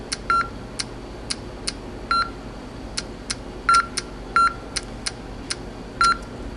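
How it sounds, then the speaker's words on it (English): An audio password authentication system gives short regular clicks as progress ticks, with a louder beep sounded now and then among them, all crisp and evenly spaced over a quiet room background. "the clicks here are just progress indicators, and the beeps are the counts."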